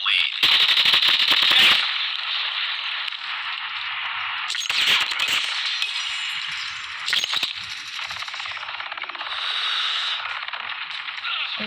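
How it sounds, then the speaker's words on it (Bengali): Explosive bursts and sharp cracks from Call of Duty gameplay, including a grenade blast, punctuate a continuous bright, noisy game soundscape of gunfire and mechanical clatter, loud and up front. "grenade sound"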